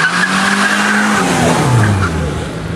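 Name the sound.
Renault 5 GT Turbo racing at hill climb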